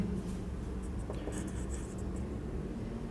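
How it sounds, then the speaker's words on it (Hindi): Handwriting on paper or a board while teaching English articles, soft scratchy strokes faint beneath a steady background hum, with no speech. "यहाँ पे मैं लिखता हूँ"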